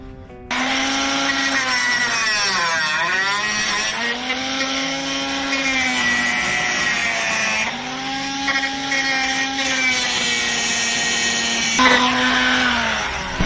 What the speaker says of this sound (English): the little nails that I have stood out a little bit more. So I'm going to grind those off.